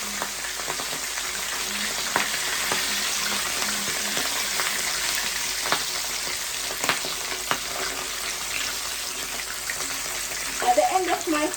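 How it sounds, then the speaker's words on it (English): Escovitch fish frying in a frying pan: a continuous loud sizzle and crackle with occasional sharper pops, steady throughout and close by. "this is the last fish and I am going to put it into my frying pan"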